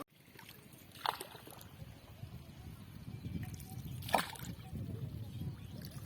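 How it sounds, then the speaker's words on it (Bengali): Wooden oars dip and splash in the clear Nabaganga river as a rowboat crosses, two brighter splashes standing out over a steady low water wash and nearby murmur. "জলের মধ্যে বৈঠা পড়ছে আর ছপ ছপ আওয়াজ হচ্ছে।"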